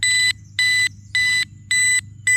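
An electronic alarm beeps loudly in a steady repeating rhythm, five sharp tones about half a second apart, over a low background hum.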